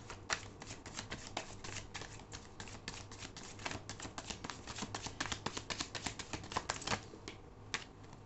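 Tarot cards are shuffled and drawn in a steady, rapid riffle of crisp flicks and slaps lasting several seconds, close and fairly quiet with no talking.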